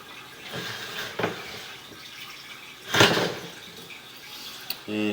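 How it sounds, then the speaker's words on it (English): Water surges through a PVC sewer main beneath a house after a flush, a hollow rushing swell in the pipe with softer trickles and drips before and after, heard close inside the line. "This main just flushed."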